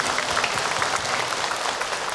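A congregation applauds at an Islamic sermon gathering, a dense, steady burst of clapping that fills the short moment without any speech over it.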